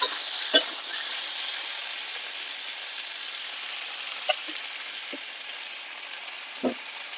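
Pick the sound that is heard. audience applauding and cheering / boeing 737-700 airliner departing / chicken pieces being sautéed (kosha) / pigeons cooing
chicken pieces being sautéed (kosha)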